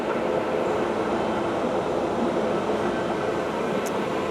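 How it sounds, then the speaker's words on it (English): A flatbed cutter machine fitted with an extension table cuts sheets on a plant floor, giving a steady, loud mechanical roar that holds unbroken from start to end with no voices. "This cutter has an extension table on the front, so it can roll feed off while the operator is offloading."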